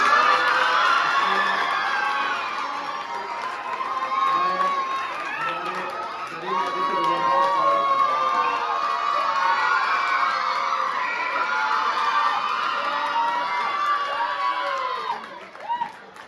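Students cheer and shout at an Urdu high school's award function as prizes are handed out, a loud sustained roar of children's voices with whoops and yells throughout.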